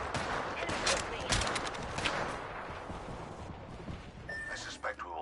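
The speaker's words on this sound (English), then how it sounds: "Taking fire. Firing." Rapid bursts of video-game gunfire crackle through a dense firefight, with a steady noisy wash of shots and a voice talking over the action.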